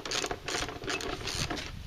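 Metallic ratcheting clicks as a wrench loosens a nut on a walk-behind motor mower, rapid repeated mechanical ticks close to the microphone with no talk.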